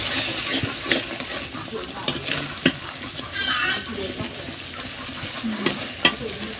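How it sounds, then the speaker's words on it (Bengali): Spices frying with tomato in a pan for a prawn, potato and tomato curry: a steady low sizzle broken by sharp scraping clicks of a spatula stirring at intervals, close and moderately quiet. "এখন আমি আবারও টমেটোর সাথে মশলাগুলো একদম ভালোভাবে কষিয়ে নেব।"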